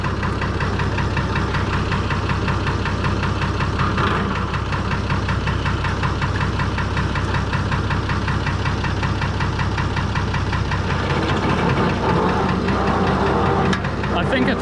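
A Fordson Major tractor fitted with a Perkins straight-six diesel runs close up on sand, its engine knocking in a loud, steady, rapid throb that continues unbroken throughout, with a voice talking over it.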